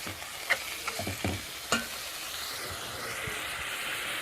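Liver sautéing with garlic in oil in a pan, a soft, steady sizzle with scraping and knocking of a spoon as it is stirred, fairly quiet and close.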